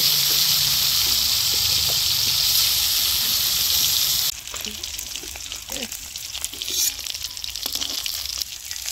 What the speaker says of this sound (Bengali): তেল আমি ভালো করে গরম করে নিছি। এখন আমি মাছ একটা একটা করে দিয়ে দিব।